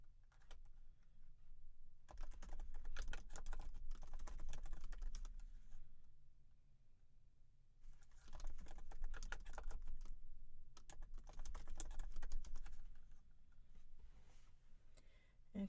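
Keystrokes on a Mac computer keyboard as a local password is entered, two bursts of rapid close clicking separated by a quieter pause, with a low hum underneath and no talking.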